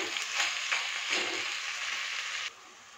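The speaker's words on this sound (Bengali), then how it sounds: "শাকটাকে দিয়ে আমি ভালো মতো করে নাড়াচাড়া করে নেব" Chopped spinach frying in a pan gives a steady, close sizzle with a few soft stirring scrapes, then the hiss drops off abruptly near the end.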